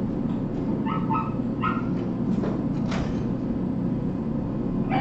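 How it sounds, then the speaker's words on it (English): A dog yelps and whimpers while playing with a ball, short high cries coming in clusters over a steady background hum, fairly close and moderately loud. "when you're hearing that yelp, it's because the ball did something unexpected"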